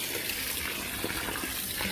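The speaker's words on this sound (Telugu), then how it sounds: "నెక్స్ట్ ఇక్కడ వాటర్ పడుతున్నాయి" A continuous rush of falling water, steady and fairly loud, with faint splashing and no voices.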